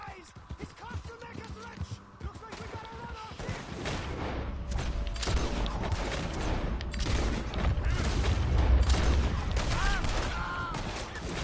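Pistol shots in Red Dead Redemption 2, a series of sharp cracks over a busy stretch of game action, growing denser and louder after a quieter start, with someone talking over it.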